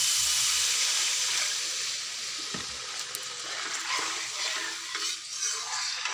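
Soybean chunks frying and being stirred in a pan, with a steady close sizzling hiss throughout, broken now and then by scraping stirs.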